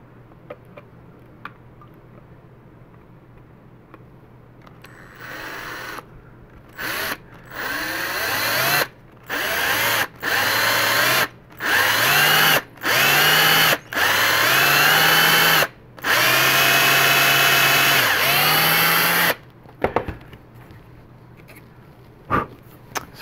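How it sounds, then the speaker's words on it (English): A 1/8 drill bit boring a hole in resin, the small power drill whining in a series of short bursts that rise and fall in pitch with gaps between them, close and loud. "using this 1/8 drill, I'm going to drill a hole there."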